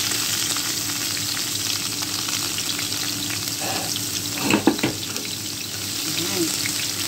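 Garlic and onion fry in a pan with a constant close sizzle, joined midway by a few clinks and scrapes of stirring, with faint talk underneath.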